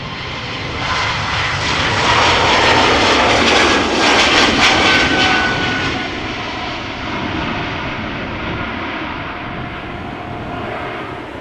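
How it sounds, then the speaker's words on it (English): A Bombardier C Series (Airbus A220) jet departs Amsterdam Schiphol, its engines giving a loud, sustained roar that swells to a peak and then eases slightly as the aircraft moves away. "It is another Bombardier C series or Airbus A320 as they're called these days, outbound to Riga."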